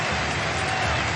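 Stadium crowd at a Vasco versus Flamengo football match applauding a substituted player, a dense continuous roar of clapping and voices from a large crowd, steady and loud throughout.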